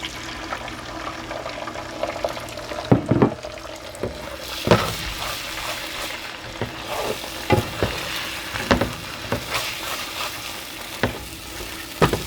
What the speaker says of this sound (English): Next, we use the leftover oil to cook the egg.